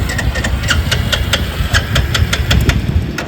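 Royal Enfield Bullet 350 motorcycle with an empty petrol tank being cranked, a steady thumping engine churn with regular pulses that never catches and settles into running, close and fairly loud with no talking.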